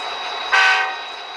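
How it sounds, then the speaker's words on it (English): An Amtrak K5 LA air horn sounds from an Athearn GP40 DCC model locomotive in a single short blast, a bright reedy chord that swells and fades over under a second against a steady background hum. "Proper Amtrak K5 LA horn."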